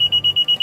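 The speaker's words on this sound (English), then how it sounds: "If instead you hear a series of rapid beeps for about 2 seconds," A rapid series of six high electronic beeps in quick, even succession, loud and clear with nothing else: a car's smart entry warning that the doors have not locked.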